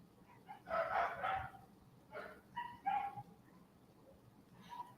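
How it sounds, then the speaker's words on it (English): Distant dogs bark in a few loose bursts, with a rooster-like call mixed in, faint against a steady low background. "Dogs are barking."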